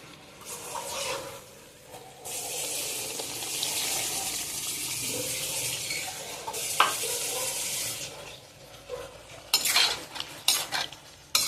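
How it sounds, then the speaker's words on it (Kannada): Water poured into a pan of okra gojju (bendekai gojju) while it cooks, a broad splashing pour lasting several seconds, followed by clinks of a utensil against the pot and stirring, with no talk. "ಸ್ವಲ್ಪ ನೀರು ಹಾಕ್ತೀನಿ"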